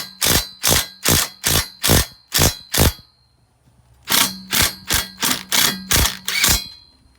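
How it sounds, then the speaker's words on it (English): Impact driver starting screws into a Polaris Sportsman ATV rear brush guard: two loud bursts of rapid, evenly spaced hammering, about seven impacts each, with a short pause between, close up and with no talking. "I am using my impact, but I'm using it just to get these screws started"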